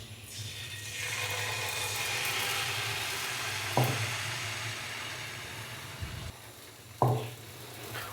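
Liquid aloo paratha dough sizzling in a greased pan, a soft steady frying hiss with low hum, broken by two sharp clicks of a spoon or spatula against the pan.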